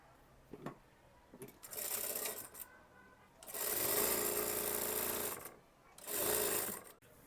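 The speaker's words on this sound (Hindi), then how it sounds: "अब इसमें हमें सिलाई कर देना है।" A sewing machine stitches tucks on a kurti in three sustained runs of steady motor whirring and needle chatter, separated by brief pauses with faint handling noise.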